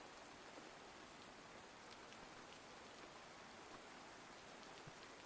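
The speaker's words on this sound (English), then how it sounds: "I'm in the pouring rain." Steady, dense rainfall in DayZ hisses evenly throughout, a constant wash of pattering drops with no other sounds.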